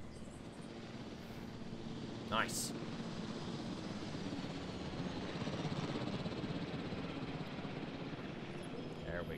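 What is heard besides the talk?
helicopter returning in the video game Jurassic World Evolution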